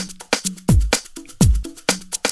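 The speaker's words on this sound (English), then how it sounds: "Panning all the way to the right and to the left, it sounds like this." A punchy drum loop in Logic Pro, panned hard left and right, pounds out a repeating pattern of deep kicks with sharp snare and hi-hat hits, loud and dry with no voices.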